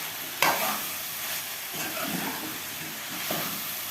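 Potato and cauliflower frying in a pan as they are stirred, an even close sizzle and hiss with a few sharp scrape knocks, no speech.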